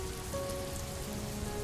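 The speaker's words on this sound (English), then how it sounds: "the rain fell in a steady, unyielding rhythm, its sound now a powerful chorus that filled the empty spaces" Steady rain patters evenly across a small town square with an old statue, a dense, unbroken hiss of drops on hard surfaces, alone and consistent.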